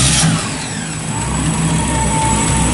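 A 1962-66 Chevrolet C10 truck's GM engine rumbles and revs through its dual exhaust, a deep, steady growl with a slight rise in pitch, close and loud.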